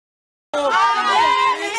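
A large crowd gathered outside a courthouse, a dense murmur of many voices with scattered shouts, starting abruptly and staying loud and near throughout.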